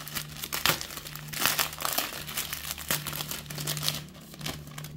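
A plastic-wrapped merchandise package being opened, with crinkling and rustling of plastic in bursts, close and fairly loud, with no speech.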